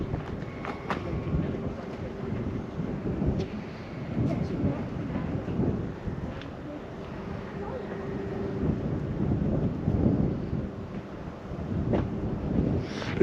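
Wind gusts buffet the microphone on a chilly evening beside the River Humber at Paull, a rough, rumbling blustery noise rising and falling throughout, with faint speech underneath.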